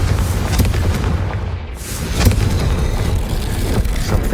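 A Confringo explosion spell from the Hogwarts Legacy video game goes off as a loud, rumbling boom over dense game noise, with a burst of blasts near the middle and a sustained low roar afterward.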